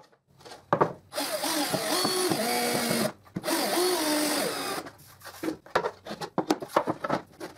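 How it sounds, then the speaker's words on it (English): A power drill drives screws into a wooden table saw miter sled in a few loud, whirring bursts separated by brief pauses, close up. "and I drive another 2 screws."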